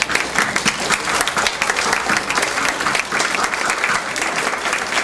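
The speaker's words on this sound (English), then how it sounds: "so we can give you a round of applause to start." Loud, sustained applause from a seated audience at a college honors recognition ceremony, many hands clapping in a thick, continuous wash that holds steady throughout.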